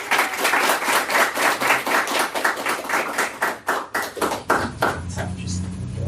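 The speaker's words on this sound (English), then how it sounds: "Please give him a round of applause." Audience applause at an open-mic sign-up night, a dense run of hand claps that thins and fades toward the end, with some voices mixed in beneath it.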